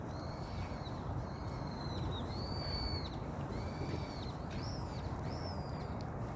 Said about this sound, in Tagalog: Narinig ko yung mga ibon.